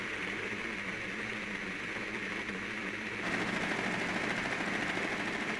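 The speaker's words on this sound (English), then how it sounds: "Did you hear that shooting?" Gunfire from Rainbow Six Siege on the Presidential Plane map: a steady, dense wash of muffled distant shooting that runs without pause and swells a little louder partway through, with no voices over it.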